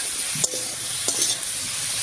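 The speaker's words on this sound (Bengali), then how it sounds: "এবার খুব ভালো করে মিশিয়ে নেব।" Green tomatoes seasoned with salt and turmeric get stirred in a pan, a couple of brief scraping knocks of the spoon over a soft steady sizzle, with no voices.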